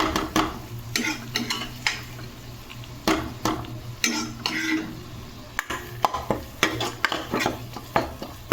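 Mashed brinjal is sautéed in spice masala over medium heat, with a soft sizzle under repeated, rhythmic spatula scrapes and knocks against the pan.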